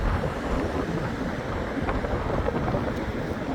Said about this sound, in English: It's ever so windy.